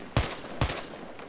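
Two sharp, heavy SVD sniper rifle shots in Battlefield 3, spaced about half a second apart, each a loud crack with a short reverberant tail and no talk.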